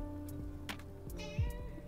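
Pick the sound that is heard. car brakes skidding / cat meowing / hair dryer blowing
cat meowing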